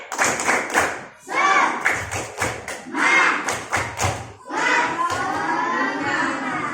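A class of third-grade pupils does a rhythmic spirit clap in an Islamic primary school classroom, sharp patterned bursts of claps and thumps in repeating groups, mixed with children's chanting voices.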